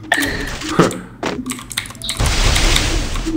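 Quick bursts of computer keyboard keys clack close by, a few separate taps followed by a denser rattle of keystrokes with a dull thunk or two in between.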